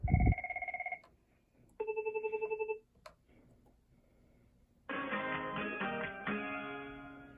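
A Cisco CP-9971 IP desk phone plays chirp ringtones in short bursts: rapid chirping trills, a pause, another chirp pattern, then a fuller melodic ring, close and clear.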